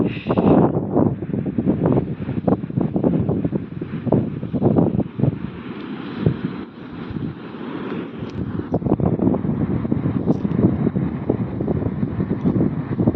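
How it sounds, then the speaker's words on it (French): Wind gusts at the Belgian seaside, a steady broadband roar buffeting the microphone for the whole stretch, loud and close with no voices over it. "Vous entendez le vent ou pas?"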